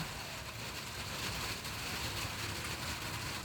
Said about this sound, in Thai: เสียงฝนดัง